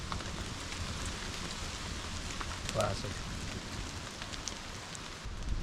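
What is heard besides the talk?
rain falling outdoors at off-grid Alaska camp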